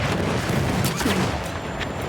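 A dense, rumbling burst of booming explosions in Battlefield 1 fills the clip, the player's own trap going off, loud and continuous with crackling debris; no voices.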